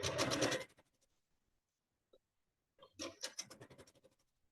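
A sewing machine stitching quilt pieces together, running in two short bursts of rapid mechanical stitching separated by near silence, close and moderately loud.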